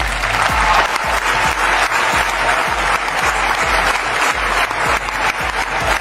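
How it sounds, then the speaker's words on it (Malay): Thunderous applause from an audience, a dense, loud, sustained clatter of many hands clapping throughout. "Beri tepukan gemuruh untuk kita semua."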